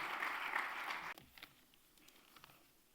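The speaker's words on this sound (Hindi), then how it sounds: "एक बार जोरदार तालियों के बीच में स्वागत करें" A crowd at a formal ceremony honoring guests bursts into loud applause that welcomes a speaker, lasts about a second, then cuts off and leaves only scattered faint noises.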